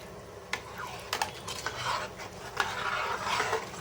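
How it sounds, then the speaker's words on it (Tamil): A spoon scrapes and clinks against a metal pot in irregular strokes while thick fish curry with tamarind water is stirred, with a faint sizzle underneath. "நல்லா கலக்கி விட்டுக்கலாம்."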